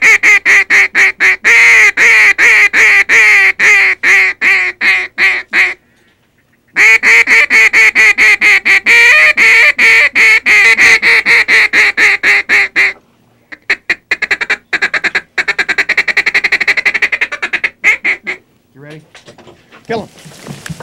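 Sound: ducks quacking and honking during a duck hunt

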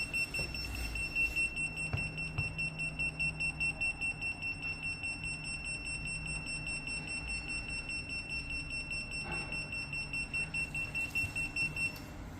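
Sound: LaserDeton Kamikaze detonator standby beep signal every 2.5 seconds

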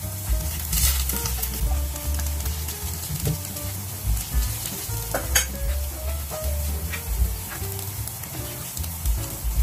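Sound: chicken wing drumettes added to a hot pan and stirred

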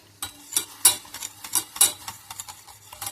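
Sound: stirring baking soda into gingerbread honey mixture

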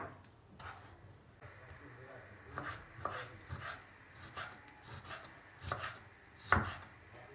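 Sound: chopping lamb heart with a knife

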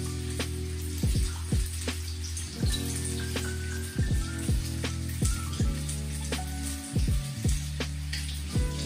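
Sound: chicken fillets frying in a pan on low heat

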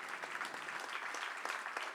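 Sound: applause

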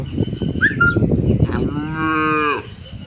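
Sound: HF cow mooing

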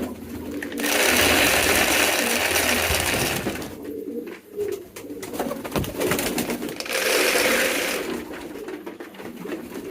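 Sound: pigeons cooing while being fed

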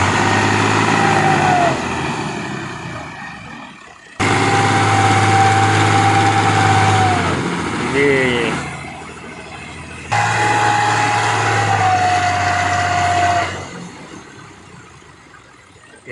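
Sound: Ghazi 65hp tractor engine pulling heavy loaded trolley

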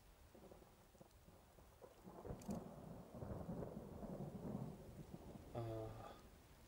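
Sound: rain and thunder in a video game

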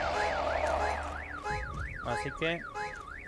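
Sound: alarm going off in video game Walking Zombie 2

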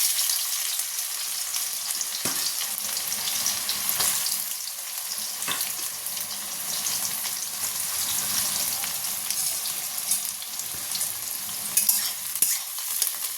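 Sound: onions frying in a pan

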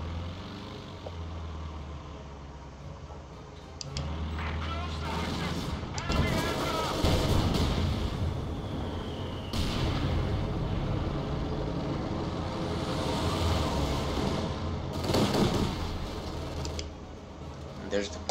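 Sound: mortar fire in the video game Company of Heroes 2

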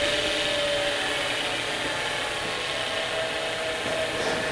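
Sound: lathe live center bearing noise

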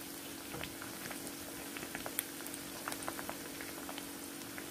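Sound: prawns frying in oil for prawn 65

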